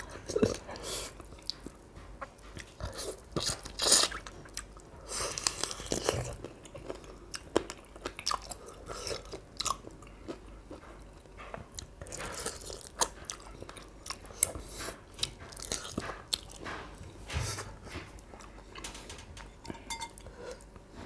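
Chewing while eating Lao food, with soft crunchy bites and mouth noises up close, mixed with faint clinks of dishes and utensils and quiet talk.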